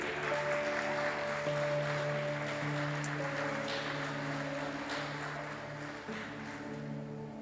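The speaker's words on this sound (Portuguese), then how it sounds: "Você pode aplaudir a Ele nessa noite." A church congregation applauds in a steady, dense wash of clapping that fills the whole stretch, with sustained musical tones running underneath.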